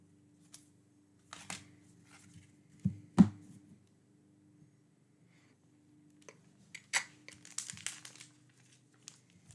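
Paper crumples and crinkles while a 2022 Bowman Baseball jumbo box is opened, in scattered short rustling bursts separated by quiet gaps, with a faint steady hum underneath.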